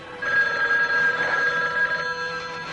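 A telephone bell rings steadily in a horror film trailer, a loud sustained electronic trill with no speech over it.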